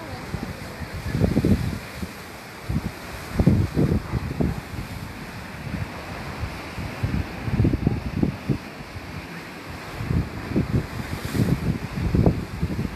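Wind buffets the microphone beside a rough sea at Polignano a Mare, with gusty bursts and surging waves that rise and fall repeatedly under a steady roar.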